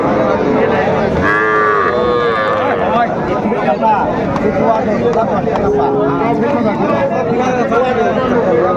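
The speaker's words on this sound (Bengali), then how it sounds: "ষাঁড় বাচ্চা" A bull calf moos loudly at the Ambari cattle haat in Dinajpur, with drawn-out bellows standing out over a busy crowd of people talking and bargaining throughout.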